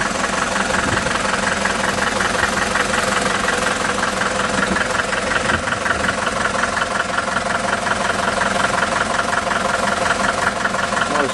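Farmall Super MTA diesel tractor engine idling steadily up close, a loud continuous knocking diesel chug with even rhythm and some vibration throughout.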